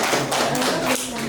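A class of students claps during a microteaching lesson at Unila, a short burst of close, dense clapping with a voice faintly underneath.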